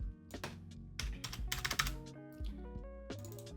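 Quick bursts of clicky keystrokes on a computer keyboard while setting up PLC software, close and fairly quiet, in uneven clusters with short pauses.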